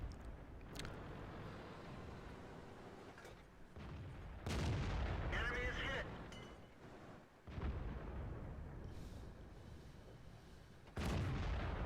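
Tank cannons fire in World of Tanks, an M46 Patton among them, as several loud booming shots with sharp attacks and long rumbling decays ring out at irregular intervals amid battle noise.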